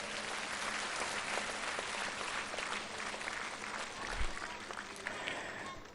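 A school audience at Acharyakulam in Haridwar gives a sustained round of dense clapping for young children aged five to seven, steady throughout with crowd murmur.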